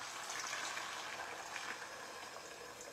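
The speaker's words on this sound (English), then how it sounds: "We just put the egg inside the oil, right?" An egg sizzles in hot oil in a home kitchen, a steady close crackling hiss with faint pops, no voices.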